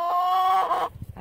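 A chicken in a sunny backyard chicken yard gives a loud, sustained, close call, followed by a few soft clucks and scratching sounds.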